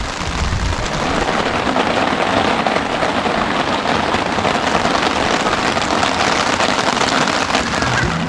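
Rain falls on a campsite beside a stream at Ban Than Hiran in Suan Phueng, Ratchaburi, Thailand, a dense, steady hiss that holds at an even level throughout.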